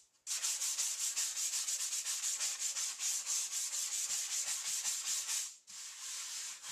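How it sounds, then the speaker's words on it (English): Sandpaper rubbing steadily across the surface of a carved foam tombstone, a continuous close, loud scratchy hiss in rapid back-and-forth strokes, pausing briefly near the end before resuming. "Gently sand those. I usually go ahead and sand the whole surface."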